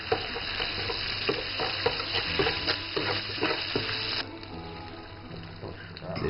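Beef with chili bean sauce and dried chilies stir-fries in a hot pan, with a steady sizzle and frequent scraping, clattering strokes of a utensil that stop near the end, leaving a quieter fry.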